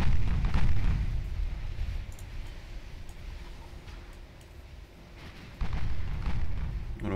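Enemy warship guns fire in the naval game Ultimate Admiral Dreadnought, heard as deep, rumbling booms against a steady sea-like background, with a loud blast near the start and another toward the end.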